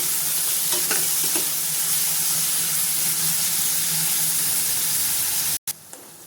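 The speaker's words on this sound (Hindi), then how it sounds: "अदरक, कटे हुए प्याज भी डाल देंगे। इनको चलाते हुए 2 से 3 मिनट भून लेंगे।" Chopped onions, garlic and ginger fry in a pan while being stirred for a dhaba-style palak paneer, a loud steady sizzle throughout, broken by a brief clatter near the end.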